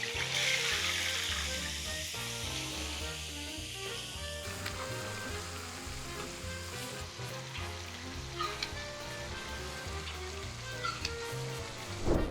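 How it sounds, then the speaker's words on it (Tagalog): Milkfish (bangus) fries flesh side down in hot oil, giving a loud, dense, continuous sizzle with crackling pops and spatters that keep going throughout, with no talking over it. "So what I will do, I will fry it flesh side down"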